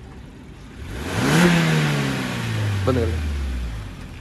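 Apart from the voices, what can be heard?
Maruti Suzuki Swift VXI car engine idling and revving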